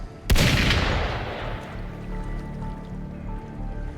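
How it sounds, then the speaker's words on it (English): A single loud gunshot in a video game cracks out near the start and rolls into a long, decaying rumble with an echoing tail and a low droning background. "Gunfire!"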